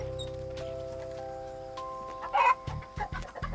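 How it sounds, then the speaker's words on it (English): Hens clucking on a Hmong family's country farm, a few short calls rising near the end above a low steady hum, with no talk. "You can see like a hen down there."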